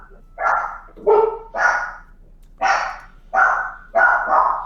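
Dogs bark repeatedly at close range, about seven sharp barks spaced irregularly, some in quick pairs, with no talking over them.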